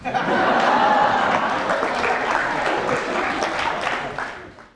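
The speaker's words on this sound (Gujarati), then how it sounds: "ખબર નથી તમે મજાકમાં તાળી વગાડી રહ્યા છો કે તમે મને સપોર્ટ કરી રહ્યા છો" Studio audience on a televised courtroom-style talk show claps loudly and steadily, with some chuckling mixed in, the applause tapering off toward the end.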